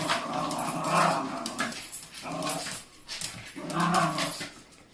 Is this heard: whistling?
no